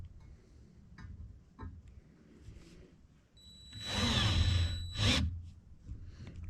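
Power drill with a loose chuck tapping a diesel tank in a skoolie conversion, a couple of short whirring bursts after quieter ticking and clatter, with a louder sustained run near the end.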